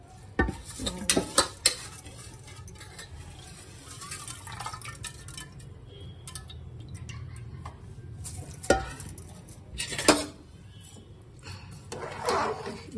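A spoon scrapes and clinks around a metal pressure cooker pot of veg biryani, stirring in irregular bursts with soft bubbling between strokes.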